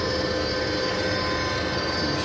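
A Colchester Triumph 2000 centre lathe runs at 350 RPM with its lead screw and feed shaft turning, producing a steady, close, droning mechanical hum with a gear whine layered on top and no speech.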